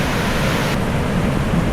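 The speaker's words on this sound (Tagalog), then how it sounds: "Sinasalubong siya ng malalaking alon." Sea waves at a rocky tidal pool where fresh water meets the sea, a continuous broad rushing wash of surf with no breaks, steady and fairly close.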